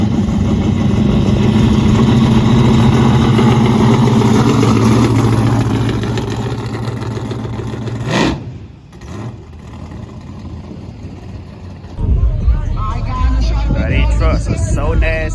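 A truck engine at a car show idles with a loud, deep, steady rumble for about eight seconds, then cuts off abruptly; people talk through the quieter stretch that follows.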